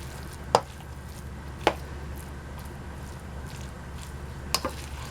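Meat, rice and vegetables are mixed in a pot, heard as three sharp spoon clinks against the pot over a low, steady background rumble, close and otherwise quiet.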